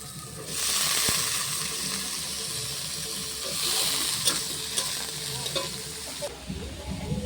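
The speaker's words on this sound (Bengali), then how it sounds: "এবারে ভাজা করব" Cut potatoes frying in a pan: a rising hiss and sizzle that swells twice with scattered clinks of stirring, and faint background voices.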